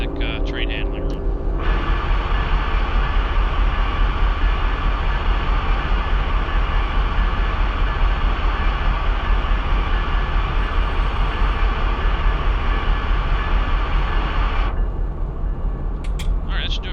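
A heavy freight train descends mountainous territory, a loud, steady rumble and roar holding for most of the stretch before cutting off near the end.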